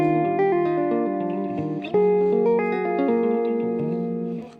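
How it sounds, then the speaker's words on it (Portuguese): Clean guitar through a modeled Fender Twin 2x12 amp with a compressor and a large hall reverb, playing a smooth melodic line of sustained notes. It sounds moderately loud, alone, and fades out at the end. "O reverb eu tô usando um hall, né?"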